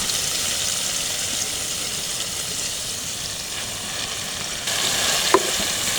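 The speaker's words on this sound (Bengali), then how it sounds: "ফুলকপি আর মশলা আমি খুব ভালো করে আস্তে আস্তে নেড়ে মিশিয়ে নেব" Fried whole cauliflower being gently stirred into spice masala for a korma, giving a constant close frying hiss with faint occasional stirring touches and one brief clink near the end.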